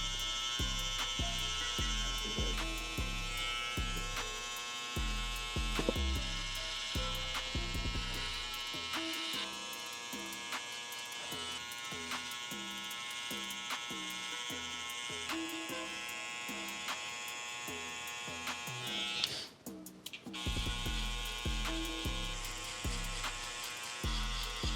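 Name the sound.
electric hair clipper buzzing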